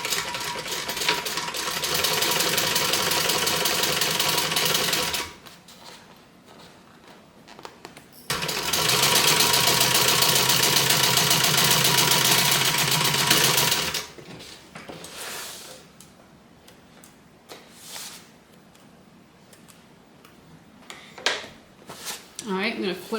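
A sewing machine back-stitches on a fabric bag in two loud, steady whirring runs separated by a short pause. A person talks once the machine stops.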